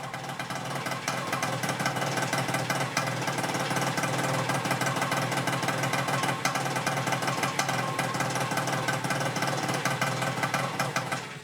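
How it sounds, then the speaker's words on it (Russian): An RMZ 500 engine on an E-12NK ultralight aircraft runs at a rapid, loud, steady clatter, its dense rhythmic firing continuing unbroken and close throughout. "Очень хотелось запустить двигатель."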